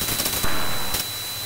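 Rapid machine gun fire rings out in the flight combat game Chuck Yeager's Air Combat, a harsh, noisy burst lasting about a second over a continuous hissing background.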